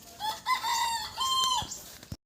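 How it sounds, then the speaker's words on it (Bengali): A hen or rooster just taken from a chicken coop gives loud, close, drawn-out squawks and clucks, several calls in a row and then a sudden cutoff. "মুরগির ঘর থেকে মুরগি নিয়ে কিন্তু বাড়ি যাচ্ছি"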